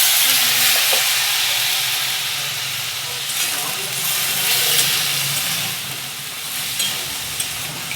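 Large-cut tomato pieces sauté in a pan with a splash of water, a loud steady hiss and sizzle with stirring rustles throughout, close and continuous, with a voice faint in the background.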